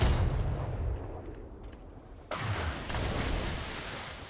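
Large naval guns fire in a Royal Navy roleplay video game, with two heavy booming blasts, one at the start and another midway, each followed by a rumbling decay, and no voices.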